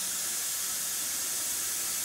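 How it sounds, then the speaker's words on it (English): An airbrush spraying paint spatter gives a continuous, even, breathy hiss of air that holds steady throughout with no pauses and no voices. "by pulling the airbrush back, probably about 15 inches back, I would spray it"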